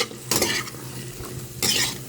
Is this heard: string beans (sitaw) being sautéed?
yes